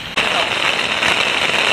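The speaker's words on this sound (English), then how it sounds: "We can't even hear each other because it's raining so bad outside." Heavy rain and hail pound steadily on a tent during a storm at Boyd Lake State Park, a dense, loud, continuous hiss that starts abruptly and fills everything.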